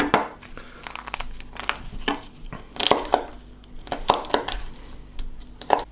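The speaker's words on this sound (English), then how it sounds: "What we want to do is cut this up into pieces." A knife cuts a dried ancho chili into pieces on a board, producing close, crisp crackling and crunching cuts in an irregular rhythm over about six seconds.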